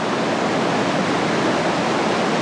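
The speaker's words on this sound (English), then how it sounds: "It has the same color of glacial blue. The water is just pouring down." Glacial river water in Nepal pouring down in a loud, dense, continuous broadband rush, close and steady throughout with no voices.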